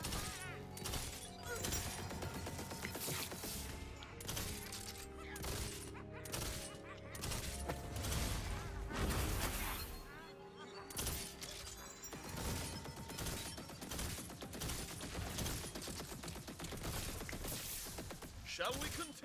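Gunfire rattles through combat in the video game Tiny Tina's Wonderlands, a dense, continuous barrage of shots, impacts and crashes mixed with game effects and voices talking over it.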